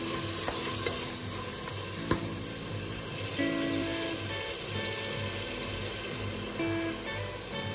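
Mutton liver frying in a pan for a mutton curry gives a steady, close sizzle, with occasional sharp clicks and scrapes from stirring against the pan.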